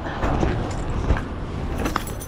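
A bunch of keys jingles and clinks loudly and close up for a couple of seconds over a low rumble of background noise.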